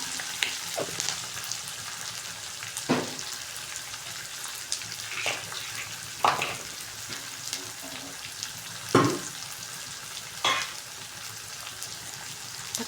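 Onions fry in a pan with a pinch of salt for a Marathi egg curry, a constant broad sizzle punctuated by several sharp crackles and spatters spaced a few seconds apart.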